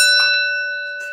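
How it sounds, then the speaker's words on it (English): A single bright notification bell chime rings out clearly, its pure ringing tone decaying smoothly over about a second, alone and close. "it's just a notification bell."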